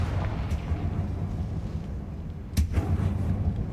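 A spell blast from the Hogwarts Legacy video game going off inside a closed mine, a sharp explosive burst standing out midway over a low rumbling game background, with a softer pop earlier.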